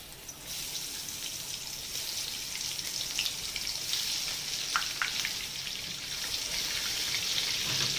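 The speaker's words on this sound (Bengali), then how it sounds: "এবারে আমি এগুলোকে তেলে ভেজে নেব" Spiced eggplant pieces, coated with ground spices and sugar, frying in hot mustard oil, a steady soft sizzle with a few sharper pops and crackles, moderate in level and heard alone.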